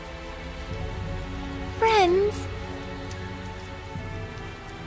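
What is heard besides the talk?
rain falling in video game Tales of Zestiria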